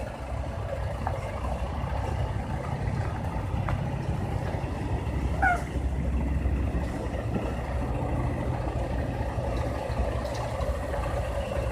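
A semi truck's diesel engine idles and rumbles steadily while the rig backs its trailer into a parking spot, a continuous low drone with faint higher squeaks partway through and no talk.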